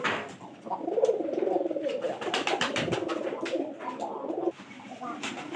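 Several pigeons coo close by in repeated low, throaty rolling calls that overlap continuously, with someone speaking softly beneath them at moments.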